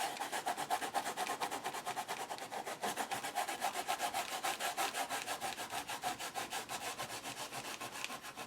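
Fast, steady back-and-forth scrubbing strokes keep a close, even rhythm for the whole stretch, with no talking.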